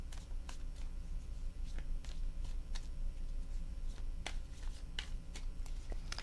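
Tarot cards being shuffled by hand in a quiet room, a series of soft crisp riffles and taps repeating at an uneven rhythm, close and faint over low background hum.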